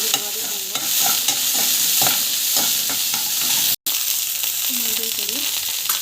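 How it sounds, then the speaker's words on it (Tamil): Urad and chana dal are sautéed with onion and garlic in a pan, heard as a constant close sizzle with repeated spatula scrapes, a brief dropout midway, and a faint voice underneath. "ஸோ இது நல்லா வதங்கிட்டு வெங்காயம் பூண்டு போட்டு ஸோ வந்து வதக்குவாங்க."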